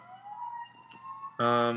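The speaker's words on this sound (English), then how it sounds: "Sirens going off. I don't know if you can hear that." A wailing emergency vehicle siren outside an open window rises and holds in the distance, then a louder, harsher horn-like blare cuts in and sustains at the end.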